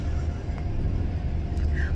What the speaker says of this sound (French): on entend un peu les bus quand même, rue Cortot